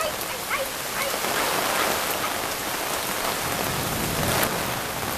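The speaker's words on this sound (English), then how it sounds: "Yeah, it's a little bit of a rainstorm." A heavy rainstorm in Central Texas in May pours down as a dense, steady hiss of rain hitting surfaces close by, with scattered nearer drops spattering throughout.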